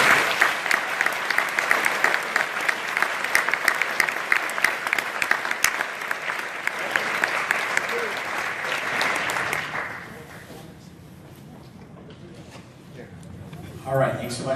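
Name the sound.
applause for three honorees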